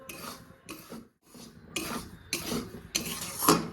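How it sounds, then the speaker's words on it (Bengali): Flour being stirred in a frying pan, a series of short scraping, rubbing bursts of a spoon against the pan, separated by brief pauses, close and moderately loud with no talk. "ময়দাটা দিয়েও আমি ভালো করে নাড়িয়ে চাড়িয়ে নেব"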